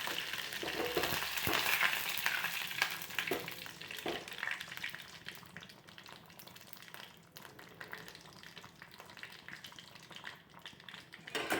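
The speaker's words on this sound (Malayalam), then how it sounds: "കടുക് താളിക്കാം." Mustard seeds tempering in hot oil for sambar: a steady, close crackling sizzle with scattered sharp pops, fading a little toward the end, with no talking.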